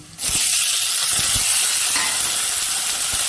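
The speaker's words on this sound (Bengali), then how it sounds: "টমেটো কুচনোগুলো হালকা ভেজে নেব।" Chopped tomatoes dropping into a hot pan of lightly reddened onions, bursting into a loud, steady sizzle that holds close and even throughout.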